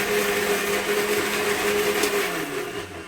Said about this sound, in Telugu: ఫస్ట్ ఇలా మిక్సీ పట్టుకుంటున్నాను